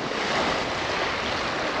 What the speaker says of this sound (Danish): Her der blæser det, og bølgerne står på.